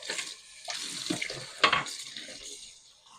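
Tap water running and splashing as dish soap is rinsed off an old wooden tool handle, a soft uneven gush in short surges with a sharper splash midway, fairly close and quiet.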